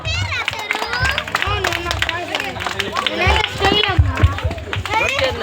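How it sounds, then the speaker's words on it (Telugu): Clapping from a crowd at a children's prize distribution during a village New Year celebration in Gonasapudi, steady and fairly loud, mixed with children's chatter and general babble, with a voice talking over it. "క్లాప్స్ కొట్టాలి."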